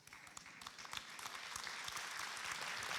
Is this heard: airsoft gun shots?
no